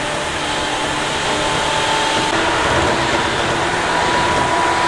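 A Tokyu 8500 series electric train runs loudly through an underground section, a continuous roaring rumble with a steady motor whine, recorded up close from inside the car.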